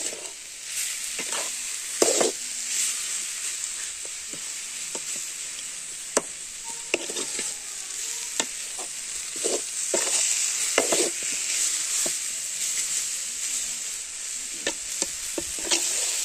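Beetroot fry with chili powder stirred in a pan, a spoon scraping and clacking in irregular strokes over a steady frying sizzle and hiss, close and fairly loud with no one speaking.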